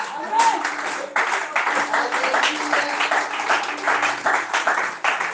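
A church congregation applauding during a wedding-themed service, steady dense clapping from a large crowd that runs the whole time, with a voice faintly under it.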